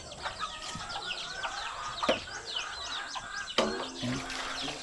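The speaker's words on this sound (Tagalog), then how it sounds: "Tinatawag naman manok, pinapakain niya." Chickens being called and fed cluck and chatter nearby while birds chirp in the background, with a few sharp knocks and a soft call or whistle now and then.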